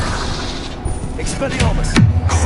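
A spell cast in the Hogwarts Legacy video game fires off several sharp, loud magical blasts and bursts, close up and layered over busy combat noise, with a voice-like sound in the mix.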